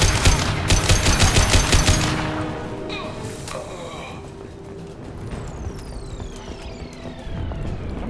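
A player's gun fires in Mass Effect 2, a rapid run of loud, evenly spaced shots that stops after about two seconds, followed by scattered softer impacts and whooshing game sounds.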